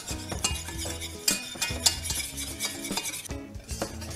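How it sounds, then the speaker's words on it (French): Flour cooks in butter in a pan for a roux, stirred briskly with a utensil scraping and clinking against the metal in an uneven rhythm, with a light sizzle beneath, close and without speech. "Et là l'idée c'est de cuire notre farine, on n'hésite pas à mélanger."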